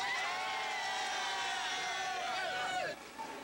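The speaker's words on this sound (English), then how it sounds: "this is a more happier crowd" Aboard a New York subway train, a happy crowd of Mets fans heading to Shea Stadium for Game Six of the 1986 World Series cheers and whoops in a dense babble over the train's steady rumble and screech.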